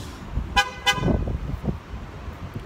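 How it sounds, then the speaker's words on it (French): Two short, sharp electronic toots from a Ford Flex 3.5 V6 horn chirp as a warning that someone has left the car, close by over low outdoor rumble. "Le petit bip à chaque fois que ça il klaxonne,"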